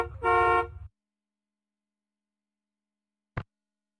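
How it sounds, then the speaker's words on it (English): A taxi car horn gives one loud, bright honk lasting close to a second, followed by near silence and a very short faint blip toward the end. "Taxi."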